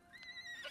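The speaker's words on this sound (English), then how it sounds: "Look at the little baby horse." A baby horse in the video game Icarus gives a short, faint high-pitched whinny, a brief thin neigh heard alone.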